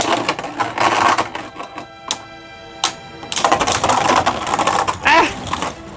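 Two Beyblade Burst Turbo Achilles tops clash in a battle stadium with rapid, rattling plastic clatter and scraping, broken by short sharp impacts and a brief lull midway.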